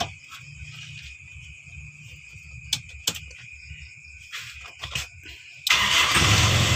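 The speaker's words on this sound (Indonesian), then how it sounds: "Jadi untuk mobilnya hidup langsung ya teman-teman ya, tanpa ada mati-mati lagi." A Toyota Kijang EFI 1.8 car being started: a few faint cranking clicks, then the engine catches and settles into a loud steady idle. A high insect-like whine runs underneath the cranking.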